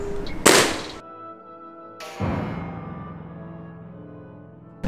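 Two sharp gunshots fired at targets, each a loud, close crack followed by a long decaying ring, about two seconds apart, with a brief thud at the very end and no talking.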